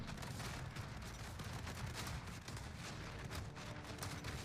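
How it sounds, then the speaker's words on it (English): Explosions and cluster strikes rain down in a Call of Duty: Warzone match, a dense, continuous barrage of overlapping blasts and gunfire-like cracks that stays loud throughout with no pauses. "I mean, this is just explosions going off now. There's like cluster strikes."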